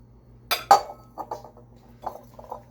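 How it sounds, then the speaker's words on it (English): Ceramic mixing bowls from a nesting set clinking as they are stacked together, two bright close clinks followed by several lighter taps and knocks, alone in a quiet room. "when you're done using your beautiful new ceramic bowls, you can just nest them together"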